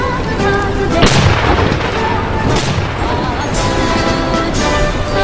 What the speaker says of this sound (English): it's the left side cannon